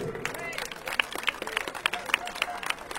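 A citizens' protest crowd in Réunion claps for a speaker being introduced, steady scattered clapping of moderate loudness with crowd murmur underneath.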